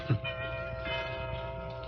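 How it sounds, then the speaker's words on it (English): A Gladchester mantel clock chimes in a quiet room, giving a soft, ringing bell tone with a faint struck attack at the start and a sustained, gently fading hum after it. "I believe it's the only Gladchester chimes in all of India"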